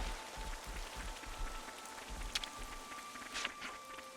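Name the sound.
rain in video game Xenoblade Chronicles 3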